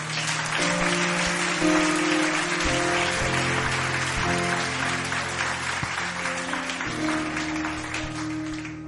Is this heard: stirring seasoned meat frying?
no